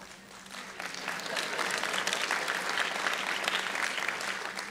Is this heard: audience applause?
yes